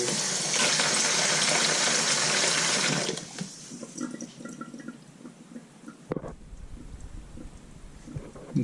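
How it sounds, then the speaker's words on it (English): Water pours and splashes steadily into a ground bait crumb mix for a few seconds, then gives way to quieter trickling, drips and soft handling noises. "just get some more water in there"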